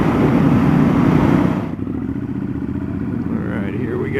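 Triumph Scrambler 1200 motorcycle with a 1200cc twin engine, loud engine roar close to the microphone that drops off sharply partway through, then a steadier lower drone.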